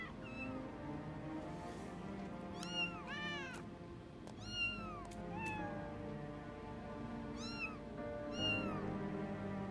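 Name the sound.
cat meowing in a video game (Final Fantasy XIV)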